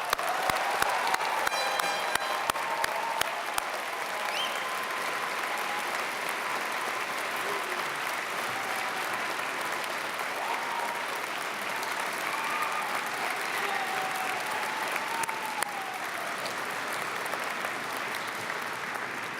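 Sustained applause from a large convocation audience honoring new graduates at a fall university ceremony, steady and dense for nearly twenty seconds, with a few faint voices and whistles mixed in.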